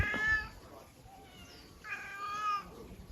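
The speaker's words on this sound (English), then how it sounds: "Oh, say meow." Cats meow on a mountain hiking trail in Seoul, South Korea, two clear drawn-out meows about a second and a half apart, fairly close over quiet outdoor background.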